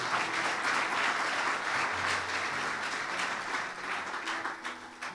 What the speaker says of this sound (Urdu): زوردار تالیاں خدا کے نام کے لیے